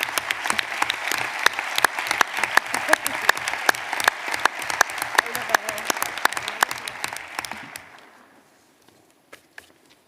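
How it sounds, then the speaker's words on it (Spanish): A congress hall full of people clapping steadily and briskly for several seconds at a political party congress before the applause trails off into a few scattered claps. "un aplauso para los 3 ponentes que han trabajado duro"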